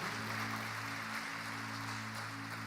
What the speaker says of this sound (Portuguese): Vamos aplaudir o Senhor por essa verdade.